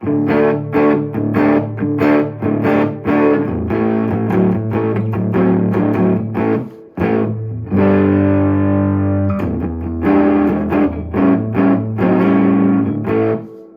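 Thick, distorted electric guitar through the reverb channel of a Fender Tone Master Deluxe Reverb amp plays chugging chords and sustained notes with a washy reverb tail, loud and up close, with a brief pause midway.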